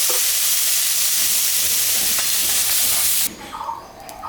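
Cauliflower florets fry in a pan with a loud, dense, hissing sizzle that suddenly drops to a much quieter crackle near the end.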